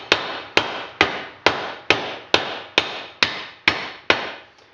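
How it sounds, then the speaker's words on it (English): Rubber mallet tapping a bearing into a John Deere 455 mower deck spindle: ten evenly spaced, fairly loud thuds about half a second apart, each with a short ringing decay. "I just use a rubber mallet."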